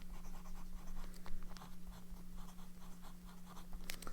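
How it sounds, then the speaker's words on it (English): Lamy Studio fountain pen writing on Tomoe River paper, a soft continuous scratching with small pen strokes and a faint steady hum underneath, close and quiet, no talking. "I'll do a little writing sample on Tomoe River paper too."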